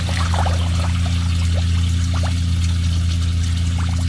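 Water trickling through the air gap of an auto-leveling pond skimmer at a koi facility: a continuous gurgling trickle with small bubbling splashes, steady and close, over a constant low pump hum.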